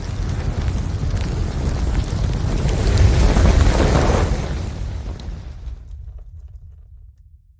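A tank cannon firing sound effect, a heavy, rumbling boom that swells to a peak and then fades away into silence.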